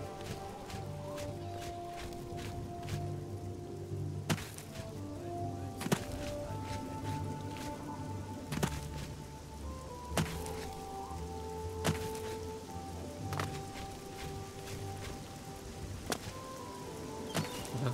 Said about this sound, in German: Jetzt fängt schon wieder an zu regnen.